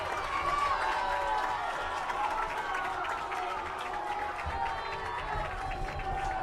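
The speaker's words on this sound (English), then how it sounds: "Oh, the crowd likes that." Stadium crowd at a high school football game (LHS vs North Middlesex) cheering and roaring after a touchdown, a steady, dense wash of voices and clapping that stays loud throughout.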